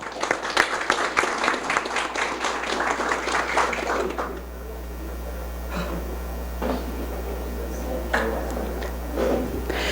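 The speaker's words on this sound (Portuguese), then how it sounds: "pastor Jair Augusto Alexandre, a quem saudamos com uma salva de palmas." Burst of applause in a municipal council chamber during a public hearing, welcoming the council president: dense clapping for about four seconds, then stopping over a low steady hum with faint scattered sounds.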